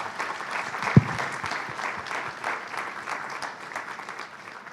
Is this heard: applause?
yes